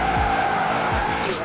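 A car drifts in the Forza Horizon 4 racing game, its tires squealing loudly and continuously while the engine revs hard beneath, with no talking.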